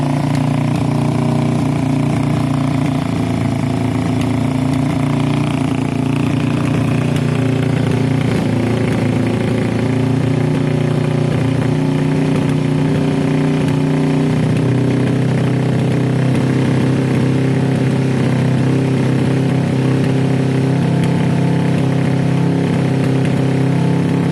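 A Kawasaki cafe racer motorcycle engine runs loud and close throughout, idling high with the choke off, a steady drone and slight swells in pitch like light revving.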